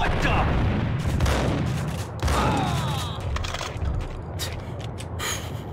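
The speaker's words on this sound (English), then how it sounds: "They didn't even hear the gunshots." Rapid bursts of gunfire from the video game Max Payne crack out in loud, dense volleys with sharp impacts and scraping in between, ringing out over several seconds.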